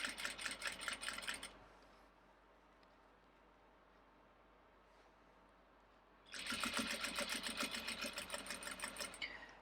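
A sewing machine stitches a fabric pocket in two fast, rapid-fire bursts of needle clatter, near and steady, separated by a quiet pause of several seconds.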